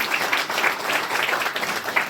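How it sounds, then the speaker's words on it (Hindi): A church congregation at a Sunday service breaks into steady, sustained applause, a dense wash of many hands clapping at once, continuous and fairly loud throughout. "प्रभु के लिए जोरदार तालियां दो"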